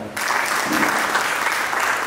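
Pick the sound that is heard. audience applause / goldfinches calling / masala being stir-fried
audience applause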